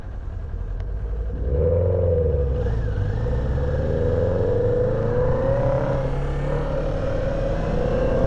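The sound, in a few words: Kawasaki Ninja 400 motorcycle being ridden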